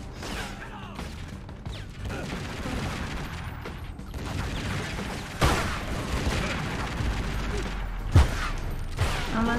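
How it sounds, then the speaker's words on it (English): Grenades exploding in the video game Tomb Raider: Legend, set in Japan: dull, fairly distant booms over a steady bed of combat noise, with two sharper blasts standing out near the middle and end. "Let's just throw some grenades."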